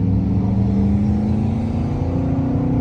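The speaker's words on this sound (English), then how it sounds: "So the faster I go, the higher the RPMs go." A car engine revs steadily in first gear as it accelerates from a stop, a loud, close, continuous drone with rising pitch and no talking, in a car fitted with paddle shifters.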